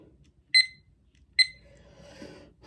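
A timer alarm sounds for a two-minute eating challenge of five Twinkies and a cup of milk, giving two sharp, bright beeps about a second apart over a quiet room, with faint murmuring afterward.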